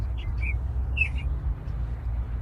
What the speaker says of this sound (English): Does anybody know what that bird sound is?